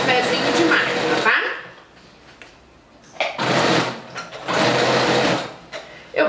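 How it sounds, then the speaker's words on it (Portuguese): A sewing machine fitted with a presser foot stitches fabric with elastic for a festa junina outfit, running in loud bursts of about a second to two seconds with pauses between, while someone talks at the start. "Eu tô costurando aqui com um pezinho de máquina"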